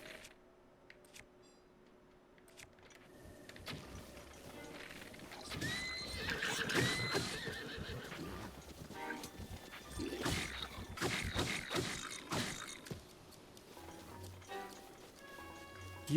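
A horse in the Zelda Breath of the Wild video game neighs and whinnies several times amid clip-clopping hooves and game ambience, moderately loud and continuous.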